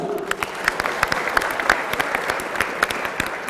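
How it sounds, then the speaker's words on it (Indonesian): A crowd claps for a few seconds, a steady patter of many hands with a few sharper claps standing out. "Kita beri tepuk tangan untuk Bapak Laude Mutakhir Bolu"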